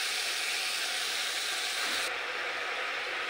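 Loud, steady hiss and sizzle as a small amount of water hits spice masala frying in a pan, a broad continuous wash of sound that drops slightly partway through.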